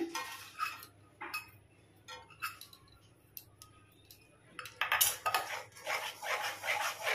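Milk powder being stirred into hot water in a pot, with a utensil clinking and scraping against the metal in irregular taps, building to denser, busier stirring toward the end.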